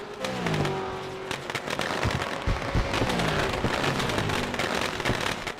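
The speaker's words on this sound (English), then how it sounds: "I think I hear fireworks." Fireworks during an iRacing Supercars night race at the Charlotte Roval: a dense stream of sharp crackles and pops mixed with the whine of simulated race-car engines.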